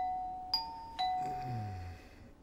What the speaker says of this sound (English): What kind of a resort hotel room comes with a doorbell?